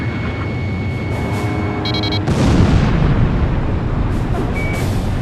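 Enemy fire and explosions in Ace Combat 5 during an air battle, with a heavy boom rolling over dense, continuous combat noise and a few sharp bursts.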